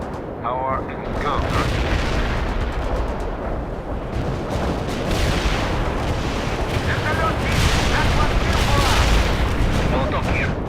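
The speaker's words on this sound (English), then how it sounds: "Artillery strikers on the way. Neutralize the enemy." An artillery barrage in the World in Conflict video game rumbles on with booms and heavy gunfire layered into a continuous roar, while radio-style voices speak over it.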